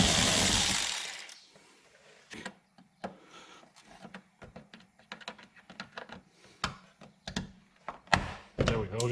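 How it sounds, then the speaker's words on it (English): Ratchet clicks and small metallic taps while a 10mm bolt is loosened and removed from a panel on a Nissan Altima during water pump work, a burst of short close clicks in an uneven rhythm after a brief loud rush at the start. "You have one 10mm bolt to remove right here."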